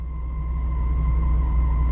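A truck engine idles while warming up in the cold, a steady low rumble with a faint constant hum above it, close by and unchanging over the short stretch.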